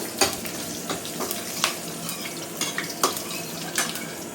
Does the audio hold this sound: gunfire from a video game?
no